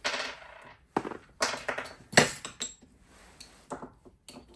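Bullets seated on an in-line reloading press with an L.E. Wilson 6.8 Western die, heard as a string of close metallic clinks, knocks and brief mechanical strokes with short quiet gaps between them.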